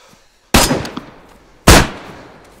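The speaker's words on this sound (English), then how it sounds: "that gun sounds like a monster" Two loud, sharp gunshots from a shotgun in DayZ Standalone, about a second apart, each a close booming crack with a short decaying tail over quiet background.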